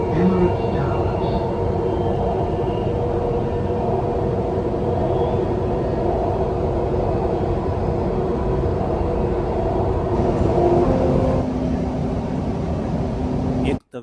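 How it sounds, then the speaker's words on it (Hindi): Dubai Metro train running toward UAE Exchange, a steady rumbling hum of the carriage in motion that holds level throughout, with an onboard announcement voice over it before it cuts off abruptly at the end. "The final destination of this train is UAE Exchange."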